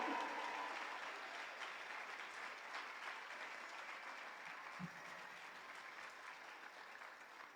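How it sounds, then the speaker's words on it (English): An audience at a graduation ceremony applauds the graduating class with sustained, moderately loud clapping that slowly tapers off. "Let's give the class of 2026 a round of applause."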